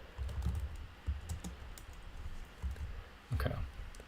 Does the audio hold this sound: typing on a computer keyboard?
yes